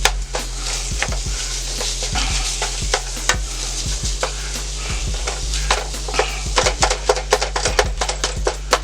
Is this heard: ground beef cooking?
yes